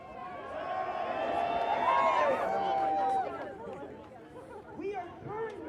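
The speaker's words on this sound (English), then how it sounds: "I'm pausing for a moment so you can hear the crowd." Protest crowd at a National Day of Action rally beside the federal building in Cleveland, a dense wash of chanting and shouting voices that swells for about three seconds, then thins into scattered nearby chatter.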